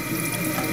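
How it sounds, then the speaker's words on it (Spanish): Water runs from a tap in a steady, hissing gush, close and fairly loud, for under a second. "está saliendo agua"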